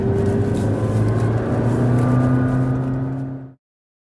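A 2014 McLaren MP4 12C Spider engine revs in a sustained, loud, tonal howl that holds for about three and a half seconds, then cuts off abruptly into silence.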